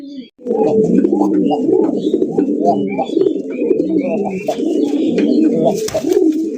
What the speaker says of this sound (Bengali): আজকের প্রত্যেকটা কবুতরে কিন্তু ডাকাডাকি করছে